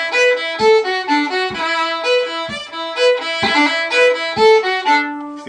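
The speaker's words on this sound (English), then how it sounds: "A roll is an Irish ornament." Fiddle plays a lively Irish tune alone, bowed notes in a steady rhythm with quick ornamental rolls decorating some notes, close and clear.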